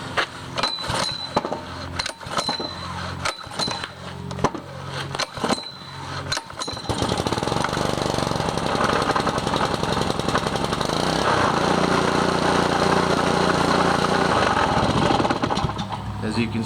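A cold Honda GC160 160cc 5.0 hp small engine sputters through a few uneven firing bursts, then catches and runs steadily at a loud, constant idle close to the microphone, its rough chugging rhythm continuing without pause.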